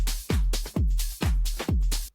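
A house music drum loop with heavy, booming kicks that fall in a steady four-on-the-floor pulse, each one sweeping downward in pitch. Bright, hissy hats and percussion sit between the kicks, and the loop plays loud with no talking.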